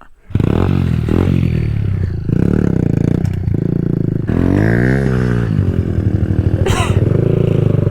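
A dirt bike engine revs hard and rises in pitch, close and loud, with clattering and scraping as the bike goes into a ditch on a farm.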